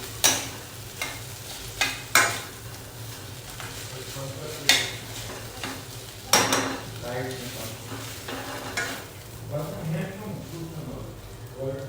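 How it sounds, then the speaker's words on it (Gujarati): A spoon stirs hot tempering into Kutchi sour khichdi in a pan, producing repeated scraping strokes and clanks against the metal over a low sizzle, while a person talks intermittently. "વઘારને પ્રોપરલી મિક્સ કરી લઈશું."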